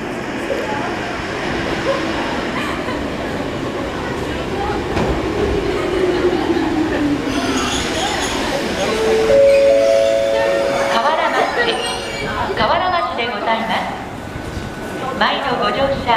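A Kotoden commuter train pulls into Kawaramachi station, its rumble and rail clatter building steadily, with squealing brakes as it slows. A station announcement plays over the noise.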